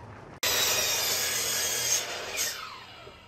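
A power tool cuts into wood while wooden greenhouse tables are being assembled, starting abruptly as a loud, steady grinding whine that runs on alone before easing slightly toward the end.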